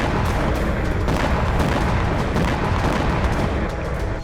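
Distant explosions from a drone attack on a munitions factory in Nizhny Novgorod, heard as dense, rumbling booms and crackling blasts merging into continuous loud noise.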